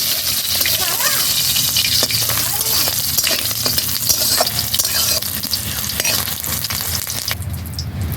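Whole spices including dry chillies, cardamom, cinnamon, cloves, black pepper and shahi jeera fry with vegetables in rendered goat fat, giving a steady loud sizzle with stirring scrapes and occasional clinks, while voices talk over it.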